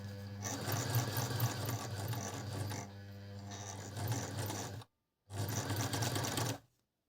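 A Brother LS-1217 sewing machine runs in long steady bursts with a rapid mechanical whir, stops briefly into silence, then runs again before cutting off.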